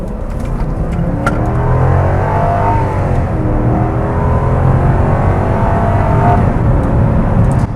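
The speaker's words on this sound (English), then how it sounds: "We're going to put myself in power mode here and gun it." A second-generation 2000s Lexus GS sport sedan accelerates hard in power mode, its engine note climbing loudly and smoothly through rising revs with a shift partway, heard from inside the car with no talk.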